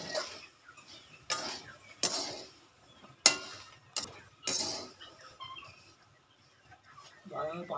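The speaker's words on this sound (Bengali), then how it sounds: "নাড়ো নাড়ো, ঝপঝপ করে নাড়ো, পটপট করে ফাটো" Peanuts roast in a small home-kitchen pan while a spoon stirs them in quick, irregular scraping strokes, with several sharp rattling bursts and quieter gaps between them, close and fairly soft.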